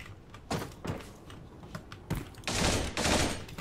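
Shotgun fire in the first-person video game Creative Destruction: several sharp, loud broadband blasts, with a dense burst of shots near the end, and no talking.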